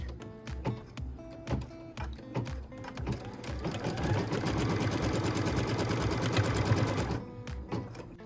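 A sewing machine stitching a tack-down line on quilt fabric: a few short bursts and clicks as the needle positions, then a steady, close, rapid mechanical whirr of continuous stitching for several seconds before stopping.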